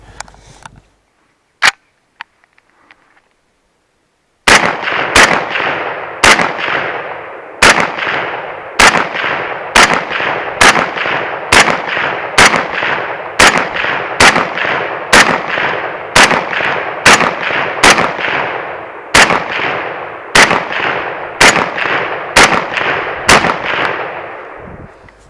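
A DSA SA58 7.62x51 rifle in the FN FAL style fires .308 Australian Outback 165-grain Sierra GameKing rounds outdoors, with a couple of early shots and then a long, steady string of about twenty loud, evenly spaced reports, each trailing a short echo.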